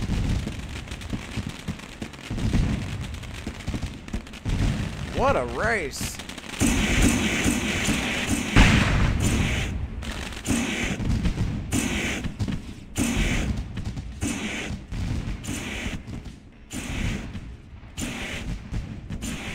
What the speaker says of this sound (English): I hear fireworks.